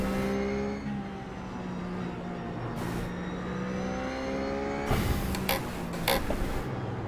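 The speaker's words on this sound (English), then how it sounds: "I'm actually using the downshifts to help turn the car on entry." RUF GT3 race car engine in iRacing at COTA, a loud continuous harmonic drone that rises and falls, with sharp revving blips and gear changes near the end as it downshifts into a corner.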